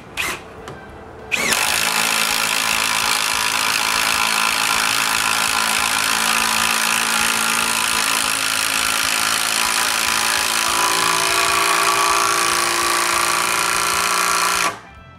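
A power drill drives an 18-inch screw into a wooden door frame in a workshop, one steady whirring run lasting most of the time, loud and close, its pitch shifting slightly partway through.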